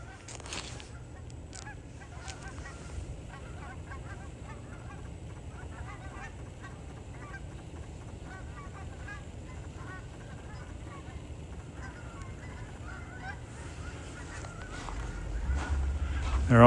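Geese honking as a flock comes in to land in falling snow near a red barn, a continuous scatter of calls over steady wind-like outdoor noise, growing louder toward the end.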